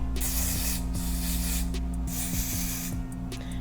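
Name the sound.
lace wig adhesive spray being sprayed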